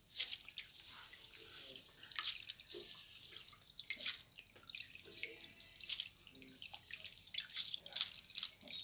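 Hands scoop floating paddy seeds from a container of water, making light close splashes and drips in an irregular rhythm.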